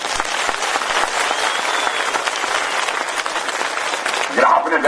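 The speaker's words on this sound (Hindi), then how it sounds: "इसलिए मैं चाहूंगा कि अपने लिए एक ताली जरूर मारो।" Crowd at an outdoor public rally in Kafota, Shilai, Sirmaur applauding a chief minister's address, dense continuous clapping filling the space until a voice cuts in at the end.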